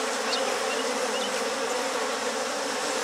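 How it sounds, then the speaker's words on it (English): Honey bees in a hive, upset after losing their queen, hum in a dense, steady, loud close buzz that never lets up. "There's that queenless sound,"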